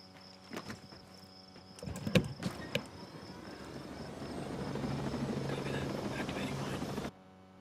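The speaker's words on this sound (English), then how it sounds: "Nice helicopter here." A helicopter in the tactical shooter Ghost Recon Breakpoint, its rotor drone building from faint to a steady, loud whir that holds for several seconds before cutting off abruptly, with a few sharp clicks early on.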